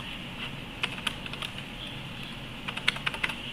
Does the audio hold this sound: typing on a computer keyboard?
yes